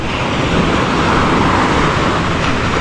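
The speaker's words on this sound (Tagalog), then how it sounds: "Malakas yung alon ngayon." Strong sea waves break on the shore in a loud, continuous roaring wash, close and unbroken, with no voices over it.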